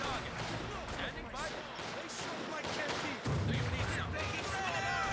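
Sharp bursts of gunfire and heavy 120mm mortar impacts crack through a Company of Heroes 2 battle, with a louder blast near the end and a voice talking underneath.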